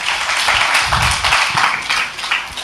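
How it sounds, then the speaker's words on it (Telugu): Church congregation applauding during a Sunday service, a steady wash of clapping from many hands throughout, fairly loud and close, with a faint voice underneath. "చప్పట్లు కొడదాం."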